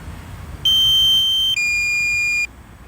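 A DJI Mini 3 Pro drone beeps twice in a row, the second tone slightly lower and longer, a high electronic sound, loud and steady over faint background noise.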